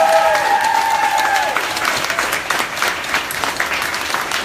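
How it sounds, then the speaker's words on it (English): An audience at a swimwear pop-up party breaks into applause, a dense continuous clatter of many hands, fairly loud and close, with a brief tonal sound fading out at the start. "Can we have another round of applause for GLOW?"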